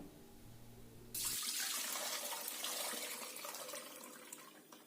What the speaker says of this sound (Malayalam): അപ്പം ഞാനിതിൻ്റെ വെള്ളമെല്ലാം ഊറ്റിക്കളഞ്ഞ് വെച്ചേക്കുക